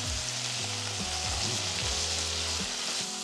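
Crispy garlic and pork belly sizzling hard over high heat, a dense steady fry hiss with rhythmic low scraping strokes from stirring, close and continuous with no voices.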